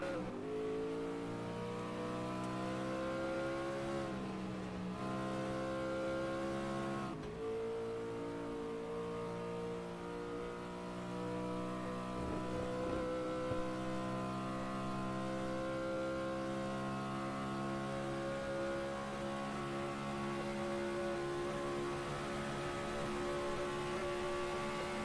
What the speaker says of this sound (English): If you're just joining us, you are on board with Jeff Lacey in his Roush V8 Ford Mustang